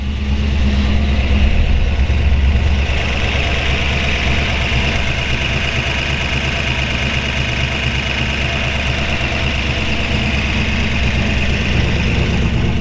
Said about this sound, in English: we're gonna let you hear it run here